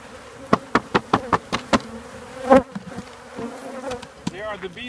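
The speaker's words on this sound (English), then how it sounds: "There are the bees that you see, and there are the bees that are coming back." Honey bees buzz around the entrance of a relocated hive, a steady close drone broken early on by a quick run of sharp taps, with faint talk in the background.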